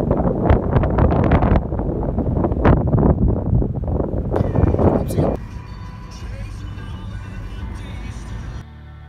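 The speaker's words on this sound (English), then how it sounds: "But sure is windy." Strong gusty wind buffets the microphone in a loud, continuous roar, dropping to a steadier, quieter rush partway through.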